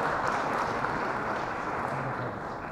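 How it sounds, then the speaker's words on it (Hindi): An audience at a tabla concert applauds, a steady wash of clapping that holds for the whole stretch and fades slightly at the end. "आपकी बहुत सारी तालियों में जनाब जवाब राजा।"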